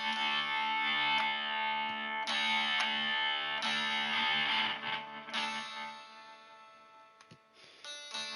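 Electric guitar played with gain and no reverb, sustained distorted chords ringing loud and close, with a few re-struck chords and a fading, choppy tail near the end.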